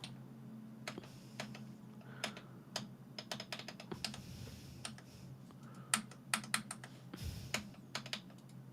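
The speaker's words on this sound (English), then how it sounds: "Keyboard press." Close, quiet keystrokes tap on a computer keyboard in uneven bursts, with scattered single clicks and quicker runs of typing over faint background hum.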